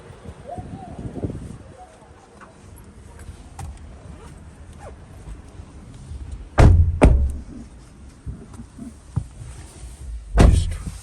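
People climb into a car at a petrol station in Japan, with rustling and movement and then two loud, close door slams several seconds apart over low background noise; no talk.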